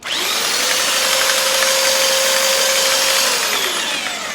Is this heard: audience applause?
no